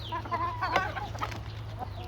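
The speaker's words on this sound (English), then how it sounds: "I am just like the accidental chicken whisperer sitting out here after my errands, just sitting with all of my feathered friends" Chickens clucking softly outdoors around a person sitting among the flock, a steady murmur of short overlapping clucks over a constant low hum.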